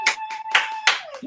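Four sharp hand claps come in an even rhythm, close and loud, over a faint steady tone in a living room during a dance-for-health session.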